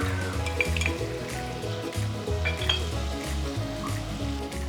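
Tomato gravy with chilli, coriander, ginger and garlic paste fries in a pan, a dense close sizzle with bubbling and repeated scraping and clinking of a stirring spoon, with no voices.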